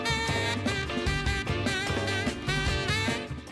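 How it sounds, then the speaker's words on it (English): A saxophone, a brass single-reed woodwind with a conical body, plays a lively melodic phrase over a rhythmic backing band with bass and drums, with clear separate notes throughout. "or the sax, is a type of single-reed woodwind instrument with a conical body"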